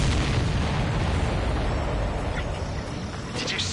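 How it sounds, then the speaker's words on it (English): A loud, dense explosion as an enemy aircraft is shot down in the combat flight game Ace Combat 7, a sustained roaring blast with a rumbling tail that fills the whole moment. "Did you see that explosion?"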